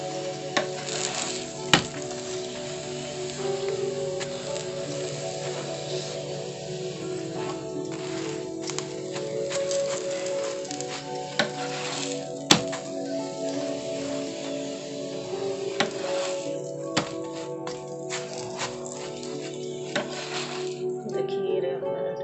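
Radish-stuffed paratha roasting in a pan, cooked on both sides: a steady, close, soft sizzle runs throughout with occasional sharp clinks of a utensil against the pan, no voices.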